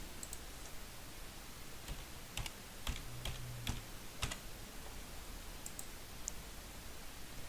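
Keys tap on a computer keyboard while a crypto transaction's authenticator code is entered, then a click confirms it; a handful of crisp, separate clicks sit over a quiet room hum, with no talk.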